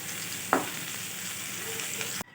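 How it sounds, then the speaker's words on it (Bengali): Potatoes fry in hot oil for chicken biryani, a steady loud sizzle with a sharp clatter near the start, running unbroken until it cuts off abruptly near the end. "আলুটা আমার এখানে খুব সুন্দরভাবে লাল করে ভাজা হয়ে গেছে"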